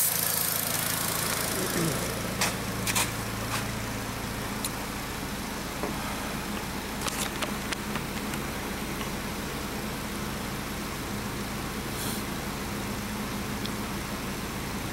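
A VW Beetle with a 1.8T engine idles steadily after an intake gasket replacement, a continuous mid-pitched hum with faint irregular clicks on top, heard close with no talking.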